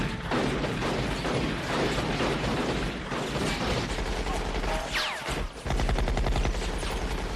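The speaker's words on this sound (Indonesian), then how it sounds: "Pada saat Hal dan Annie akan keluar, mereka dicegat oleh Deakin dan pertarungan senjata pun kembali terjadi." Film gunfight: dense bursts of rapid gunfire and ricocheting shots crackle almost continuously, loud and close, with a brief lull before another volley.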